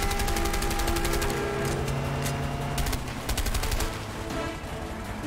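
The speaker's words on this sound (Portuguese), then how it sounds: "Para de me dar tiro, seu merda!" Rapid, dense gunfire from the video game A Way Out, with volleys of sharp shots and bursts crackling nearly nonstop at close range, loud and sustained throughout.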